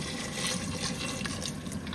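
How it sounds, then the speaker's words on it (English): Water is poured into a pot of chicken feet for Jamaican curry chicken foot, a steady, dense rushing splash that runs continuously and close throughout without any talk. "We are going to cover it with water."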